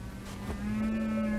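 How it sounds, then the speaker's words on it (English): A claymation cow lets out a single drawn-out moo, rising into a steady low tone that grows louder and holds to the end. "claymation cow"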